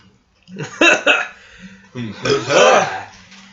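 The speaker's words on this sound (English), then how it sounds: "I burped chicken." A loud, drawn-out burp rumbles up close, with voices talking and laughing around it.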